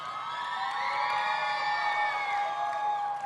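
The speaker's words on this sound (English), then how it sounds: "please cheer me on" An audience cheers and whoops loudly in a continuous burst of overlapping high voices, sustained and close, with no speech over it.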